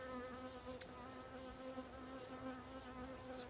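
A honeybee buzzes close to the camera beside a standard Langstroth hive, a steady faint droning hum that wavers slightly in pitch with a brief tick midway.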